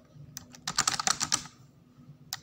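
Computer keyboard typing while entering text in Microsoft Word: a quick burst of clustered keystrokes, close and fairly quiet, then a pause and a couple of final taps, with no talking.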